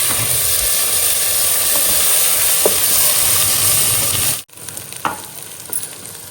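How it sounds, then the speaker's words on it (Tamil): Sliced onions with ginger garlic paste sauté in a hot pan for South Indian chicken dum biryani, a loud continuous sizzle and hiss that abruptly drops to a softer crackle with a few stirring clinks. "ஆனியன் நல்லா வதங்கிடுச்சு"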